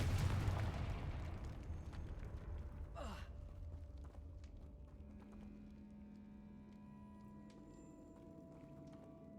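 A Confringo blasting spell goes off in Hogwarts Legacy with a sudden loud burst that quickly fades into a rumbling decay, followed by a swishing sweep and soft lingering magical tones.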